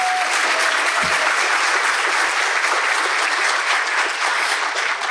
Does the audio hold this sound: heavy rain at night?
no